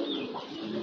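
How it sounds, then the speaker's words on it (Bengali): A thick-beaked fancy pigeon gives a soft, brief throaty coo, close and clear for under a second, with no talking. "এটা হচ্ছে আপনার মোটা শেপের কবুতর, মোটা ঠোঁটের কবুতর"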